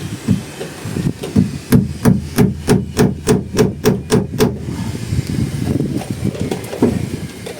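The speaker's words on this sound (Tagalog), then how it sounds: "Kaya martilyo." About ten rapid, evenly spaced hammer blows ring out in a quick burst, with background chatter and bustle before and after.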